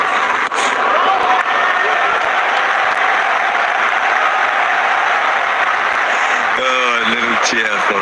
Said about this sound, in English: Oh, a little cheer for a dab to mid-wicket.